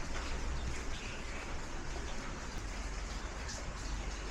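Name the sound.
rain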